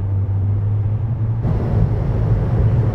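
A Citroën C6 cruising on a French motorway, with a steady low engine and road rumble from inside the cabin that grows louder and fuller halfway through, with no talk.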